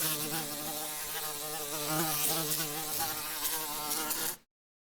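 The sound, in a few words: recorded bees buzzing played through a speaker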